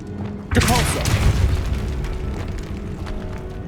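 A Depulso spell fires in the video game Hogwarts Legacy, a sudden loud booming burst that swells and rumbles for about a second before fading into a low, continuous game ambience.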